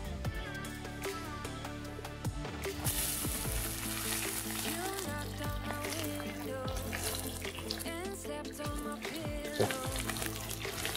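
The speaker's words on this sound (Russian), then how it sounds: "Разогрели казан, разогрели масло. И сейчас сделаем, как бы придадим вкус казану и обжарим первый лук" Onion frying in hot oil in a 22-litre cauldron over an open fire for pork pilaf gives a continuous sizzle, largely buried under loud music playing throughout.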